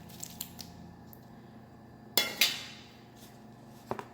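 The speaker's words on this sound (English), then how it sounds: "I'm going to add in my shrimp." Raw shrimp dropped onto an oiled baking sheet, giving a sharp wet clatter then a second slap that trails into a soft sizzle-like hiss, followed by a brief light tap, close and alone.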